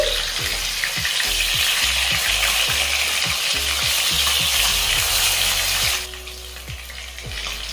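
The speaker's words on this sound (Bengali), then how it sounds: "এক পিঠ ভাজা হয়ে গেছে, এবার অপর পিঠ উল্টে দিচ্ছি।" Foli fish sizzling loudly in mustard oil as the pieces are flipped to the other side, with repeated scraping knocks of a utensil against the pan and the crackle dropping off somewhat near the end.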